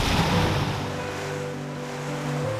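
Mediterranean sea waves washing on the shore of Djerba island, a steady soft surf wash with wind noise and a low hum in the background.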